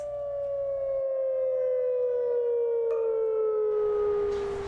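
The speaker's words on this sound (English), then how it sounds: "they're testing the tornado sirens" A loud tornado siren being tested wails in one long steady tone that slowly sinks in pitch, continuous and alone.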